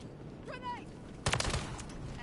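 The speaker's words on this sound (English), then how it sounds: "Shooting a dead body." Rapid automatic gunfire from the video game Modern Warfare 3 during a Hardpoint match: a short, loud, clustered burst of shots partway through, preceded by a brief warbling tone over a steady bed of game ambience.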